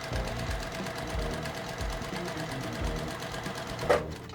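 A sewing machine stitches a quilt block, a steady fast mechanical whirr and needle rhythm running close and continuous, with a soft bump near the end.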